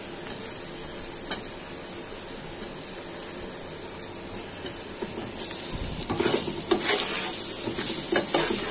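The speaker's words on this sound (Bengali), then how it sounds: "এখন আমি আমার এই লইট্টা শুটকিগুলো দিয়ে দিচ্ছি" Loitta dried fish hitting hot oil in a pan with onion, garlic and spices, a steady sizzle that swells louder partway through, with scraping stirs and occasional clinks of a utensil against the pot.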